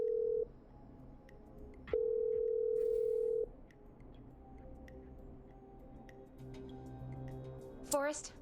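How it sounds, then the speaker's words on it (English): A telephone line in the video game Killer Frequency gives steady ringback tones. The tone sounds twice, once briefly and once for about two seconds, with soft clicks and low background noise between and after the tones. "I'm dialing. One moment."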